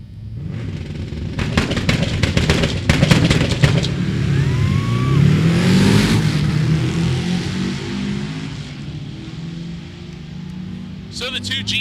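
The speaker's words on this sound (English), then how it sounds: "So the two GM products going down the racetrack, the F-body stretching the lead out" A Trans Am and a 1988 S10 drag race down the track at Sick Week in Bradenton, their engines roaring in a sustained, swelling rumble with a rising whine. A commentator talks over the noise.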